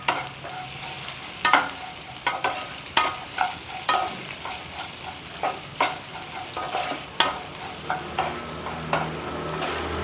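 Bitter gourd frying in a pan with salt and turmeric, a steady close sizzle broken by repeated sharp scraping and clattering stirs, with no voices.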